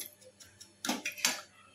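A spoon or spatula scrapes and taps against a hot pan while roasted rava (semolina) is stirred off the heat, a few quick clinks and scrapes, close and fairly quiet.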